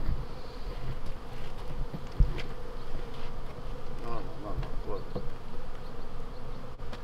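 Many honey bees buzz close around an open hive, a steady droning hum with individual insects passing near and away, while people talk quietly in the background.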